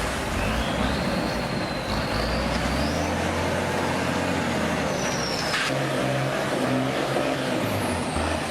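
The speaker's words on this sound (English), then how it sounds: "The military beast growls with power, its six wheels churning through the sludge like it owns the swamp" Military Deuce six-wheeled truck engine growling steadily up close while its wheels churn through swampy mud, a continuous heavy rumble with a brief hiss partway through.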